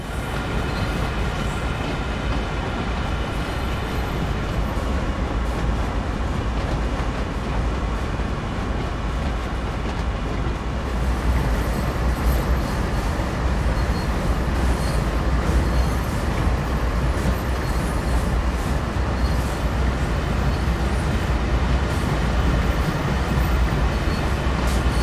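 In the Train Sim World 2 game, a Union Pacific AC4400CW freight locomotive hauls fully loaded freight cars with a steady, loud diesel rumble and continuous rail roar that swells slightly about halfway through, with no voices.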